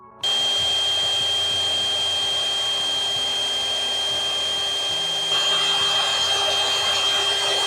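A Milwaukee M18 FSAGV125XB cordless angle grinder spins up and runs at its highest speed, a steady, loud, close high-pitched whine that holds constant, then grows slightly harsher near the end.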